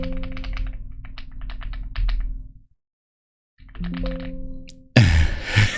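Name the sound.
typing on a non-clicky computer keyboard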